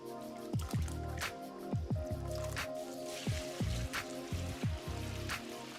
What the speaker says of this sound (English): I wet the figs with cold water.